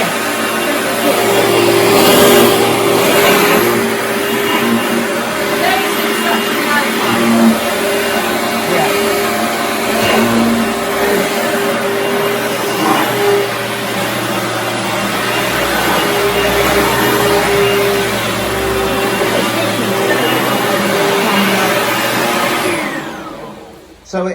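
An Oreck Magnesium RS upright vacuum cleaner runs steadily after repair, making a loud, close, continuous motor whine and airy rush that holds for the whole stretch and then cuts off at the end.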